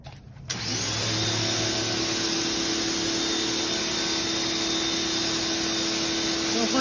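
An electric pressure washer with a 40-degree nozzle sprays water onto moldy surfaces, a steady loud motor drone and hissing spray starting abruptly after a brief pause and running continuously.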